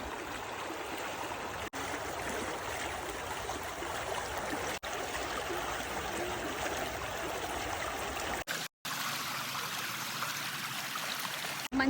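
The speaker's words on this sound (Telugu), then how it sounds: "ఫ్లో అవుతూ ఉంటాయి, చాలా ఫ్రెష్గా ఉంటాయి వాటర్" A fresh, shallow stream flowing outdoors in Austria, steady broadband rushing and trickling water close by, continuous with a brief cut near the end.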